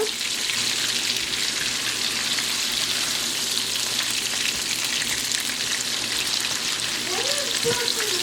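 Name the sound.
onions frying in a pan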